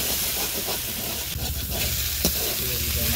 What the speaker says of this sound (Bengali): অল্প তেলে মশলাগুলো করে নিচ্ছি, তারপরে মাংস দিয়ে দেবো